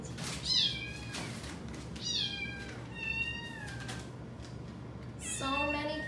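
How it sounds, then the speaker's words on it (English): Several domestic shorthair kittens meow in high, drawn-out cries, four or five calls spaced over a few seconds, fairly close at moderate level over a low room hum. "So many kittens yelling at you."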